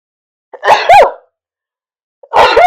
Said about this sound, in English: Goodness, three sneezes.